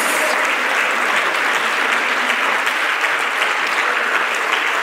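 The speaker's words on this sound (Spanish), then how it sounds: "Dale un fuerte aplauso a Dios" Loud, sustained applause fills a church service as a congregation claps for God, a thick unbroken wash of many hands clapping that holds at an even level from start to finish.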